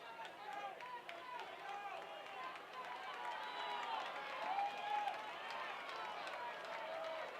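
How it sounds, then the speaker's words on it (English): High school football crowd making noise on a fourth-down play, a distant, continuous murmur of voices and cheers rising slightly midway, with shouted calls mixed in. "Crowd making some noise as they want to see a fresh set of downs."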